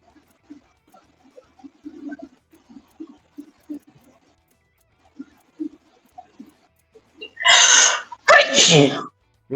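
Two loud sneezes burst out close together near the end, following quiet, scattered talk and soft mouth sounds.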